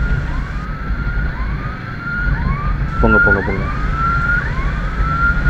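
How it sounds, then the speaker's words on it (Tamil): An ambulance siren wails as it comes up from behind a rider on a Bajaj Avenger motorcycle on the road. The repeated rising sweeps sit over engine and road noise, and someone speaks briefly. "இப்போ பின்னாடி ஒரு ஆம்புலன்ஸ் வருது"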